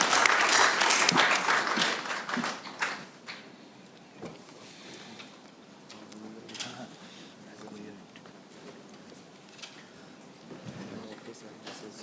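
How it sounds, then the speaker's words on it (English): Applause for a guest at a book launch function swells loudly at first, then thins into scattered claps and fades under a quieter room with some voices. "Let us give him a big round of applause"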